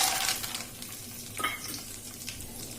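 Cumin seeds and cashews frying in hot oil in a pan for sago upma, giving a steady close sizzle that is loudest at first and then settles, with faint stirring scrapes and no talking.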